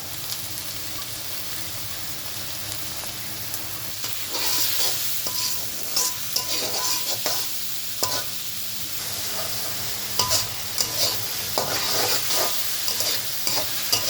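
Onions, spices and chopped tomato sizzle and crackle in hot oil in a wok for a long stretch, with repeated scraping stirs growing busier after a quiet start, close and loud.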